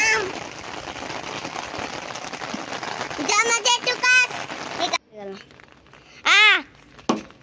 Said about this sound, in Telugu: వర్షం అయితే పెద్దదైపోతుంది